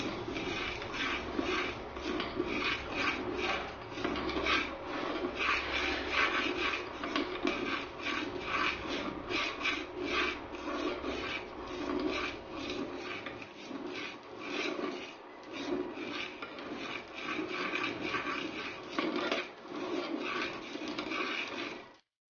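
A spoon stirs a thick mixture warming in a pan, producing continuous close scraping and rubbing strokes in a fairly even rhythm, with no voices.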